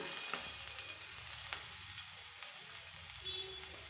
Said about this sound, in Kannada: ಈಗ ನಾವು ಚಾಪ್ ಮಾಡಿಟ್ಕೊಂಡಿದ್ವಲ್ಲ ಬೆಳ್ಳುಳ್ಳಿ, ಅದನ್ನು ಹಾಕ್ತಾ ಇದ್ದೀನಿ.